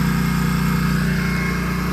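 A riding lawn mower engine runs steadily while mowing, a loud, close, continuous motor drone with no voices over it.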